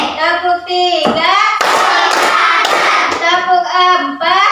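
Children in a classroom clap in short rhythmic patterns, with a few quick claps after each spoken count. The clapping alternates with a teacher and children chanting the counts aloud.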